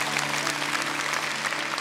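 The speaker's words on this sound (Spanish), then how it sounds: "Y quiero que le dé un fuerte aplauso al pastor Guille y a su esposa." A church congregation at Lakewood Church applauding a pastor and his wife, a dense continuous clapping from a large crowd, loud and sustained throughout, with a faint tonal hum from the hall underneath.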